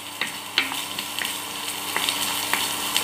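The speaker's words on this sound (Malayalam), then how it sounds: "എല്ലാം കൂടെ ചേർന്ന് ഒന്ന് നന്നായിട്ടൊന്ന് വഴണ്ട് വരട്ടെ" Finely chopped capsicum sautéing in a pan makes a steady hiss, broken by several sharp clicks and scrapes of a spatula stirring, close up with no talk.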